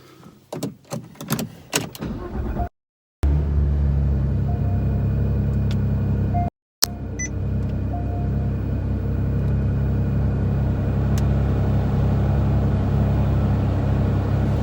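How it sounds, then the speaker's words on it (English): Porsche GT3 engine firing up after a few cranking clicks and brief silences, then settling into a steady, close low idle rumble that runs on alone. "now we've got the car started up"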